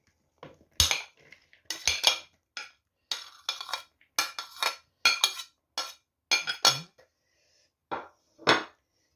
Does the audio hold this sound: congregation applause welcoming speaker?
no